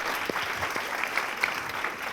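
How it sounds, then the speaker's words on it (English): An audience at an awards ceremony claps steadily, a dense patter of many hands at moderate volume lasting a couple of seconds. "Please give them a big round of applause"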